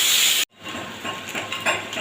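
Steady loud sizzling hiss of boiled potato pieces and vegetables frying in a pan, briefly cutting out, then continuing with crackling bursts.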